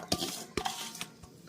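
Green peas tipped into a pressure cooker land in a few sharp metallic clatters and knocks, then a short settling rattle. Close, with no talking.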